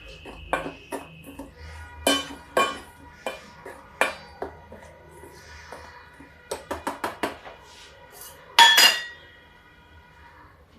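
Gram flour batter mixed in a bowl with a spoon, for paneer-stuffed besan chilla, giving irregular close clinks and taps of metal against the bowl, some in quick bursts, with a louder scrape near the end.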